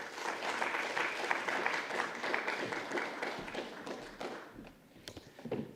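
Applause fills a forum hall as a speaker is welcomed to the stage at the Geneva Health Forum prize ceremony: a dense, steady wash of many hands clapping, fairly close, tapering slightly toward the end.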